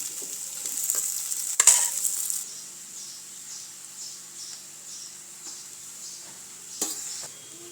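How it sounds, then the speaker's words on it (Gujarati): Boiled potatoes are stirred into onions frying in oil, with a loud clatter of the spoon against the pan at first, then a steady sizzle and occasional soft scrapes, and no voices. "તો હવે આપણે તેમાં બાફેલા બટેકા ઉમેરી દેવાના છે"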